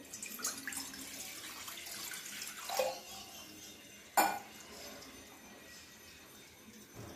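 Water poured into a pot on a gas stove to boil banana flower, a quiet running splash with a couple of sharper clanks of the vessel, faint and close, with no talk.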